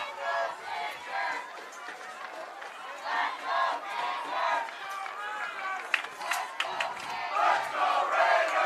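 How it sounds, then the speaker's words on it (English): Soccer crowd at a boys' high school division 3 quarterfinal, with rival fan sections cheering and chanting back and forth in a steady roar, mixed with shouts and voices throughout. "a little fan duel here. Both cheering."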